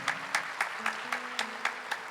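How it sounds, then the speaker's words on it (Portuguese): A congregation at a Catholic talk on the Rosary claps in a steady, evenly spaced rhythm of about eight beats, fairly quiet and with a faint hum underneath. "Vamos aplaudir a Nossa Senhora"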